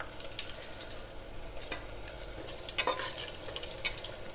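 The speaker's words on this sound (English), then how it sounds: "now we add the onions, allow it to nicely brown a little." Onions browning in a pressure pan for chicken biryani, a faint, close sizzle under soft stirring scrapes and a few light clinks of the spoon against the pan, with no voices.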